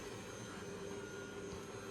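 A Dreame robotic vacuum cleaner runs with a steady, even whirring motor hum and a faint high whine, continuous and close throughout, with no talking.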